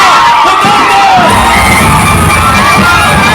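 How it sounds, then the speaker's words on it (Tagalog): A large crowd at a political campaign rally in Manila's District 2 cheers and shouts loudly and continuously, with excited whoops rising over a dense roar of voices. "ating salubungin ng mainit na palakpak at sigawan"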